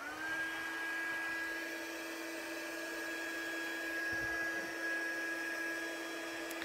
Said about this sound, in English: With the heat tool on the second setting